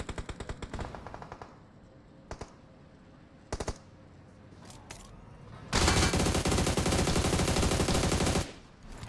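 Gunfire in PUBG Mobile during a competitive Halloween lobby: rapid automatic bursts open, then isolated shots, then a long dense volley of continuous shooting before it stops.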